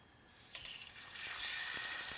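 Three tablespoons of cooking oil heat in a pan over medium-high, a soft hiss swelling into a bright, steady sizzle that grows louder after the first second.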